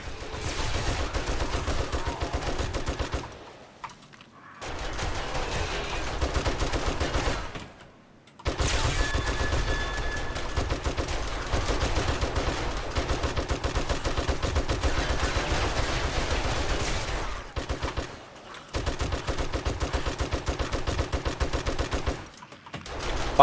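Twin M60 machine guns fired in 7 Days to Die, long sustained bursts of rapid automatic fire, loud and close, broken by a few short pauses for reloading.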